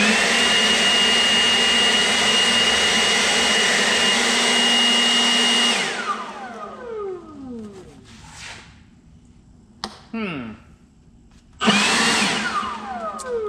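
A battery-powered leaf blower runs on its high speed setting with a loud, steady whine, then cuts off around the middle and falls silent apart from brief bursts as it spins up and down again.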